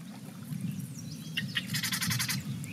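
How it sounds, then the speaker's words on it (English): Birds call and chirp in a marsh of lilies and reeds along the Upper Klamath Canoe Trail, with a dense flurry of bright, rapid tweets building over a steady low ambient rumble. "Those are the sounds of over 200 species of birds"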